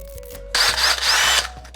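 A power sander whirs loudly for about a second against wood, grinding with a rough buzzing tone, then stops, leaving a faint hum.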